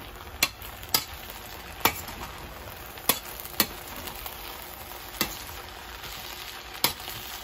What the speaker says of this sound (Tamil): பச்சை கருவேப்பிலைய அப்படியே உள்ளுக்கு போடுங்க. போட்டு நல்லா மிக்ஸ் பண்ணுங்க